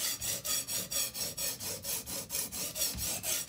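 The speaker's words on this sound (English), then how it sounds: "I'm going to go ahead and start thinning this blade out." A kitchen knife blade is thinned on an Edge Pro sharpener, the stone rasping in a steady, even back-and-forth rhythm of about three to four strokes per second, close and fairly quiet with no talking.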